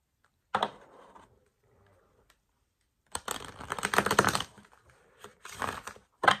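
Tarot cards being shuffled by hand, a short soft burst, a pause, then a longer crackling flurry followed by a few quick snaps, close and quiet.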